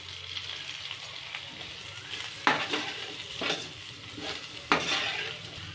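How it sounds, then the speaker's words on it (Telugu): Finely chopped tomato fries in oil with a low, steady sizzle, broken by a few louder spoon scrapes and stirs against the pot at intervals; close by, with no talking. "ఆయిల్లోనే మంచిగా ఫ్రై చేయాలి ఒక 2-3 minutes"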